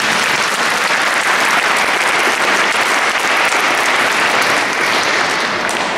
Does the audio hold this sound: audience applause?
yes